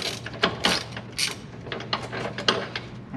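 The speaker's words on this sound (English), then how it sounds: "I got a 1/2 inch ratchet here with a 19 millimeter socket" A 1/2 inch ratchet with a 19 mm socket loosening bolts on a Jeep YJ during a rock slider install: quiet, quick ratcheting clicks in short bursts, close by, with no talk.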